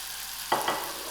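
Chicken spring rolls frying in hot oil, a steady crisp sizzle that jumps louder twice as more rolls drop in, then settles back to a constant bubbling hiss.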